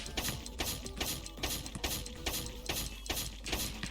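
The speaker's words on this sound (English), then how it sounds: "That is the X button I'm pressing." Rapid plastic button clicks from a game controller, pressed repeatedly in a steady, quick rhythm, close and fairly quiet.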